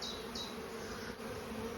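Honey bees hum in a faint, steady buzz at an opened beehive in a starving colony during the June gap, with a few individual bees passing closer.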